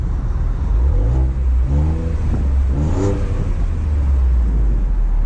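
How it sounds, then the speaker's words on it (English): A 2018 Ford Edge SUV with an EcoBoost V6 pulls away, its engine rising steadily in pitch through a few gear-like swells, heard loudly from inside the cabin with a constant low road rumble beneath. "we're setting off here in the all-new 2018 Ford Edge with the EcoBoost V6"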